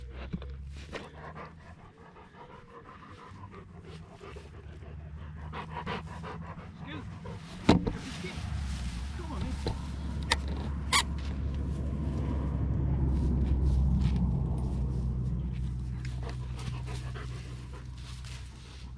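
A dog pants steadily near the microphone on an afternoon saltwater fishing outing, with a brief whimper, while someone talks over it and wind and background noise rumble underneath.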